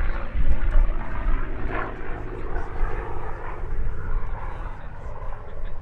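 A P-51D Mustang propeller fighter flies a sunset airshow display at Sywell, its loud, steady piston-engine drone and prop roar rising and falling as it passes close overhead.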